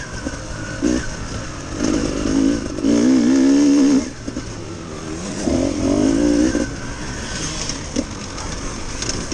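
A Beta 300RR two-stroke enduro motorcycle runs at a winter championship event, its engine loud and close, rising and falling as it revs hard in repeated surges.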